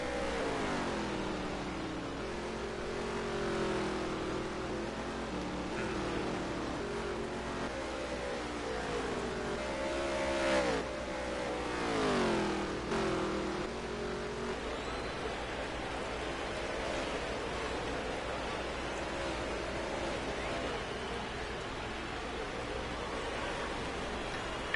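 Race cars in the NASCAR Heat 3 video game roar continuously, engines rising and falling in pitch as the pack passes, with a steady loud drone and no voices heard.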